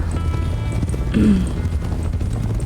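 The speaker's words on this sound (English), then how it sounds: "Look at all the horses." Horses' hooves clip-clop at a travellers' campsite where many horses are kept, a steady run of soft muffled steps under constant low rumble, with a brief louder burst midway.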